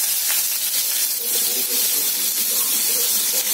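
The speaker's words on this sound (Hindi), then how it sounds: "मैं इसको मीडियम फ्लेम में भून लूंगी, अनियन, चॉप्ड अनियन को।" Two medium-sized chopped onions frying in two tablespoons of oil over a medium flame, giving a constant close hissing sizzle that stays even throughout.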